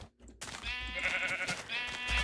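A Minecraft sheep bleats in a drawn-out, wavering cry that starts after a moment of quiet and runs nearly to the end, loud and close, alone without speech.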